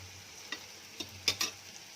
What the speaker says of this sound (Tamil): இப்போ எண்ணெய் காயுது.